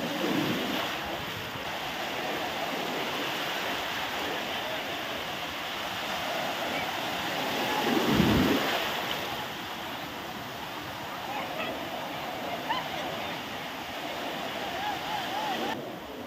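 Ocean surf rolls onto the shore at Puri in a steady, broad wash with wind noise, and one heavier wave crashes about halfway through.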